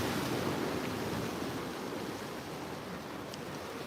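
Surf crashes onto a coastal saltwater rock pool as a steady roar of broadband noise, fairly loud and continuous, with some wind on the microphone. No one speaks.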